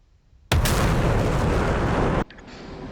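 A sudden loud, broadband roaring blast lasts under two seconds, then cuts off to a quieter rumbling hum, like a sonic boom in a game.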